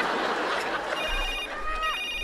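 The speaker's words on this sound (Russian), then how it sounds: "Ой, это у меня телефончик, извините." A mobile phone ringtone chimes in clear, repeating tonal bursts over a noisy room of murmuring voices, ending with a short descending tone.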